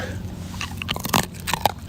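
Someone bites into and chews a crunchy snack, producing close, loud crackling crunches in irregular bursts over about two seconds with no talk.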